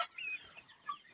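Local chickens on a poultry farm cluck in a short, close burst of sharp calls, with no other sound around them.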